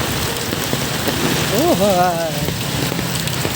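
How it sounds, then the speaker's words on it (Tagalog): Heavy rain pours down steadily in a dense, close hiss that fills the whole stretch, while a voice briefly calls out over it midway. "Talagang lakas pa rin ng ulan."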